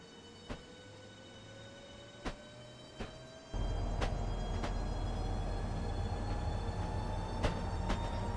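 A Shoreline East commuter train running from New Haven to New London rumbles steadily low with rhythmic clicks of wheels over rail joints. The rumble swells louder partway through.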